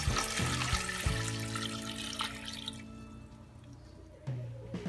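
Water is poured from a cup into a large pressure cooker pot, a close splashing gush whose pitch rises as the pot fills, followed by quieter trickles and a brief second pour.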